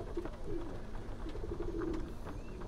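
Racing pigeons coo in a steady, soft run of low throaty calls from a nearby loft, with no talk over them.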